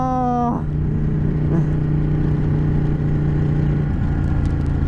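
A sports car engine revving toward 8,200 RPM: a loud, close rising whine that drops off abruptly and settles into a steady, droning engine note with road rumble underneath.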